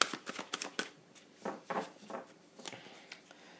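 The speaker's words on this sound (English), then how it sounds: "Why are these cards not wanting to shuffle?" Tarot cards being shuffled by hand in short, quiet, papery bursts of riffling and slapping, several separate shuffles in a row with brief pauses between them and no voices.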